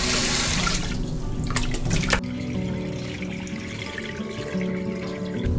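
Raw shrimp are rinsed under a running tap in a sink to wash off starch: steady splashing water with a few sharper clatters early on, then a softer continuous trickle and flow, no talking.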